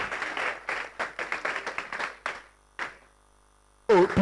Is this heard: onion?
no